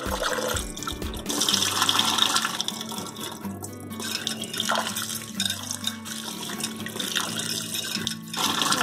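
Rice is washed in water for rice crepes, with splashing and swishing as the grains are rinsed, a few pouring sounds and scattered drips, all close and uneven, and no talking.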